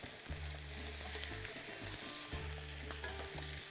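Quails sizzle and fry in a pan as they brown on all sides, a continuous close sizzle broken by a few stirring clunks and low hums, with no voices.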